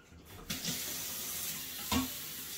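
Water running steadily from a kitchen tap into a container for cooking pasta, a continuous moderate rush with a couple of louder splashes as the flow shifts, no talking.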